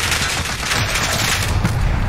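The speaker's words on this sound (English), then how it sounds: "I'm getting shot at from everywhere." Dense, rapid gunfire from several directions in Call of Duty Warzone on the Alcatraz Resurgence map. The shots pile into a continuous, loud volley with no pause, and no voices are heard.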